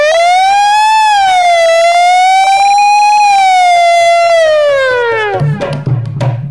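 A loud siren wail, likely a voice imitating it in a Haryanvi comedy routine, rises and falls in a long, smooth sweep before breaking off into a few rough, voiced bursts at the end.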